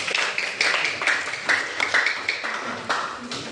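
A classroom of students claps for a group presentation, a light and fairly sparse patter of hands that keeps up a loose rhythm for several seconds.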